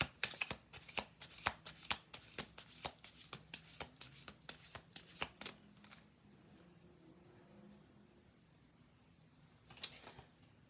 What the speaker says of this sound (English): I'm going to do one more shuffle.